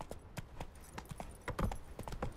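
Roach, the horse in The Witcher 3, trots along with steady, rhythmic hoof clip-clops at moderate loudness, heard alone.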